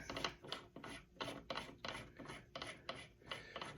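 Reloading die being screwed by hand into the top of a reloading press: a quiet, close, rhythmic series of gritty rasping thread turns.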